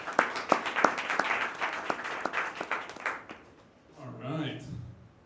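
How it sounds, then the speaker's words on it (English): Applause from an audience at a small business talk, a room full of clapping with a few sharp close claps standing out for about three seconds before it fades. A voice begins speaking near the end. "Give him a round of applause."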